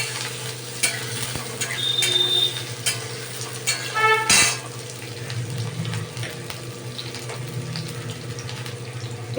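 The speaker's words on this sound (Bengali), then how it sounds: "এই আলুটাকে এবার আমি ভালো করে ভেজে নেব।" Potatoes fry in a pan with a steady hiss and sizzle, broken by the scrape and clatter of stirring and one sharp metallic clink midway. No one speaks.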